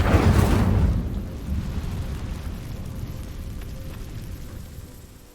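Incendio fire spell from a Wizards of Waverly Place video game, a loud whooshing burst at the start that fades into a long, rumbling fiery hiss.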